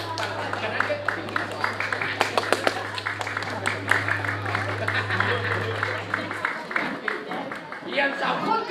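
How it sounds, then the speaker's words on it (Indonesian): An audience at a Balinese drama gong comedy show claps hands in a dense, steady patter that mixes with crowd murmur and a steady hum, while people talk over it. "Kemudian lalu tepuk tangan, terus tepuk tangan"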